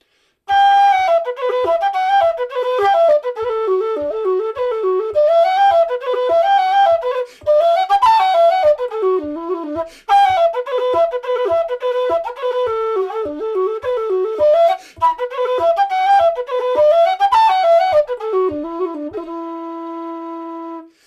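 A low whistle plays a lively, flowing melody with quick ornamented runs, phrases separated by brief breaths, ending on a sustained low note.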